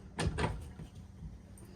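Sliding closet doors running on top and bottom tracks in the bedroom of a 2023 Forest River Salem Hemisphere Elite 35RE RV, giving two quick close clacks followed by a faint settling rattle in a quiet room.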